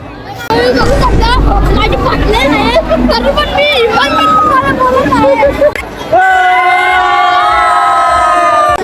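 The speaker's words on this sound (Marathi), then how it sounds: "पूर्ण गर्दीच गर्दी" Dense crowd at the Mhasa Jatra village festival in Murbad, Maharashtra: loud close babble of many voices with shouts and cheers, then a musical tone or horn rising over the noise near the end.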